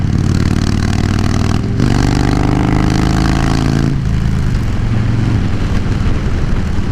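Harley-Davidson Dyna Low Rider S ridden through downtown Orlando, a loud continuous engine drone with a rising rev partway through, under heavy wind rush and no talking.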